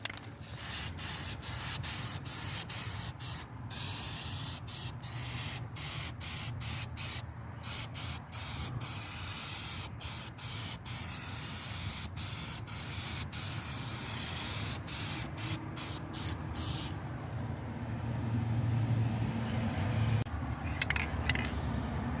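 Aerosol spray paint applied in a light coat to a wheel rim, a close steady hiss broken by many short pauses as the nozzle is released and pressed again, with no talking.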